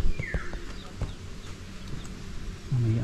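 Hens and many chicks cluck and peep close by, with short scattered calls, high chirps and a louder burst near the end.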